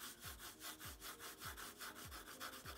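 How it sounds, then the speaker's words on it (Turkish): Pencil shading on paper for a charcoal drawing of fabric, a quiet close rhythmic scratch of strokes repeating about twice per second, with no talking. "Kalemi uzaktan tutup açık bir şekilde tonlama yapıyoruz."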